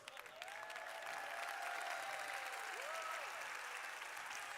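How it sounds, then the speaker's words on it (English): An audience at a 2022 State of the County address for Orange County breaks into sustained applause, a dense wash of clapping that builds quickly and holds steady, with faint crowd murmur beneath. "Now, please give all of them another round of applause."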